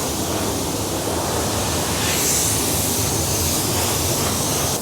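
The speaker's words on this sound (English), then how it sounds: "Let's get spraying." Paint spray gun at low pressure, around 13 PSI, spraying a vivid custom color onto a car, giving a steady, close, broadband hiss that holds unbroken throughout.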